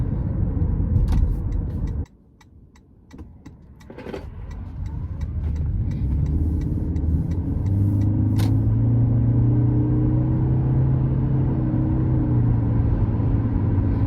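Steady car engine drone and road rumble from inside a moving vehicle, loud and continuous, with a brief dip early on before the noise builds back to a constant roar.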